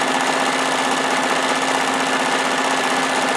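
A White Euroflair 8910 sewing machine made by Husqvarna Viking stitches a star pattern, giving a fast, steady mechanical whir with an even rapid needle rhythm at close range.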